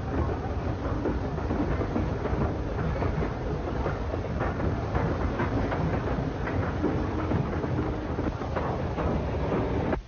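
A streamlined steam train passes at speed, with a steady, dense roar of wheels and running gear. Wind buffets the microphone and no one speaks.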